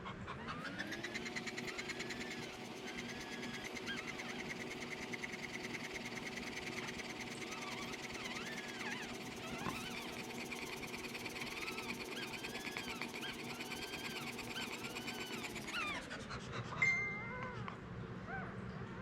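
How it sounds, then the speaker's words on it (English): An English Springer Spaniel in labor during whelping pants and huffs through contractions, a steady, fast rhythmic breathing heard close up for the whole clip, with a steady humming drone underneath that cuts off near the end. "There's the little huff of the contractions."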